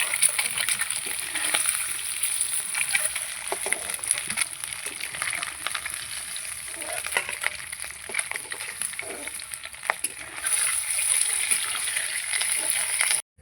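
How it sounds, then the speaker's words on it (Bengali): Eggs frying in hot oil in a wok hiss with a steady, close sizzle and crackle that runs throughout with no talking. "ডিমগুলো ভাজা হয়ে গেছে, তুলে নেব। খুব বেশি ভাজবো না আমি।"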